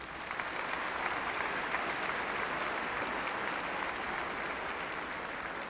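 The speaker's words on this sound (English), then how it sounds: "Let's recognize them with our applause." A large audience applauds at a spring commencement ceremony, steady sustained clapping that fills the whole stretch at an even level, with no talk over it.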